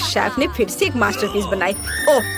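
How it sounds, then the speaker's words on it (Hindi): An alarm clock rings in a kitchen, a bright, sustained bell-like tone that starts near the end and plays under a woman's animated speech. "ये मेरी अलार्म घड़ी है।"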